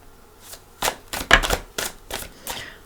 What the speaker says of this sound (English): I think I'm going to shuffle.